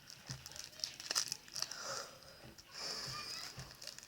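Crinkling and tearing of taped plastic wrapping on a Brawl Stars pack up close, in short bursts of rustling and ripping with small pauses.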